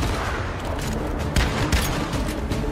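Shotgun blasts in the survival shooter Once Human during a boss fight, several sharp booming shots at irregular intervals over dense, noisy battle sound.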